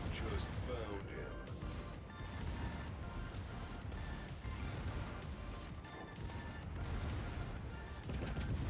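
Naval guns of a Tier IX German cruiser, the Ägir, fire HE shells in World of Warships, a rapid barrage of cracks and booms layered over constant battle noise, with no clear pause.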